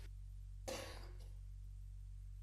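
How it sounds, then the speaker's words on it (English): One sharp cough bursts out close to the microphone over a steady low hum, followed by quiet. "listen to me cough like super loud"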